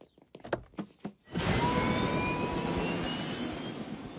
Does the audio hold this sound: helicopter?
yes